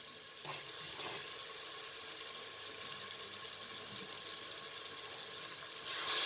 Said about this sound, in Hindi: अब इसके अंदर 3 गिलास पानी डाल दें ताकि गोश्त अच्छे तरीके से गल जाए।